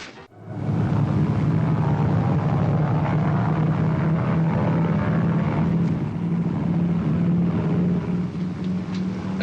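A propeller airplane drones steadily and loudly throughout, its engine hum holding an even pitch with no break and no voices over it.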